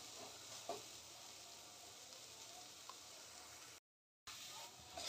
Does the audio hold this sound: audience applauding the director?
no